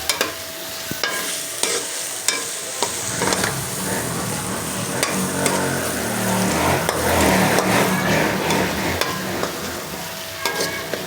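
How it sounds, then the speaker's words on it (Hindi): Karahi gosht fries in oil, sizzling loudly and steadily while a spoon stirs and knocks now and then against the pan, close and continuous. "ऑयल हमारा ऊपर आने तकरीबन आना स्टार्ट हो गया है और हम इसको 2-3 मिनट और भुनाई करेंगे।"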